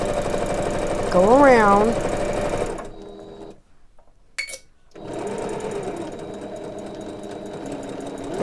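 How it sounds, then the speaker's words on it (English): A sewing machine back stitches fabric for a memory bear made from pajama pants. Its close, rapid mechanical hum runs in two bursts separated by a short pause, with a voice speaking over the start. "Now, on this side, you're going to sew, back stitch,"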